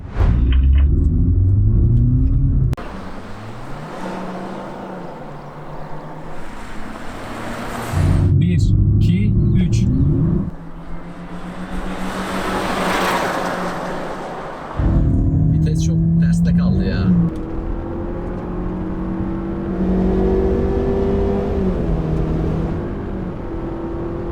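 A Honda Civic RS FC5 and a BMW 320i F30 accelerate hard in a rolling drag race, loud engine roars rising through repeated gear shifts with brief dips between pulls, close and dominant, and a voice speaking faintly in places.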